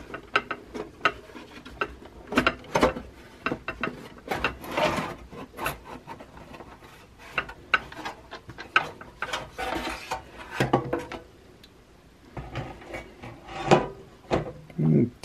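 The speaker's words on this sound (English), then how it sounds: "Taking all the screws out of the lid here, we'll just pull that off." Screws being taken out of the lid of a Realistic ten-band stereo frequency equalizer, with close, irregular ratcheting and metallic clicks plus light handling and scraping throughout.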